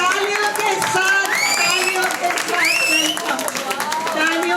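Audience at a cultural programme at a school branch in Punjabi Bagh claps and cheers to welcome a guest, a dense, loud wash of applause mixed with crowd voices throughout.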